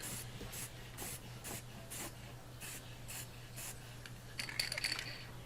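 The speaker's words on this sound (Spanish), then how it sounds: "También apliqué una mano de pintura en spray marrón para el interior." Short, rhythmic hisses of brown spray paint being applied inside a recycled ATX power supply box, about a dozen quick bursts over a faint steady hum, ending with a denser spritz.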